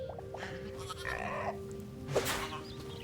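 A baby sheep in the video game Hytale gives two or three short, wavering bleats, fairly close and clear over a steady low background hum, the last cry the loudest.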